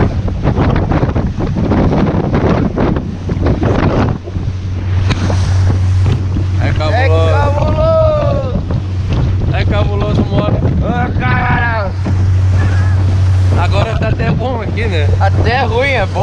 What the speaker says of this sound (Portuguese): ventania, velho. O vento tá foda.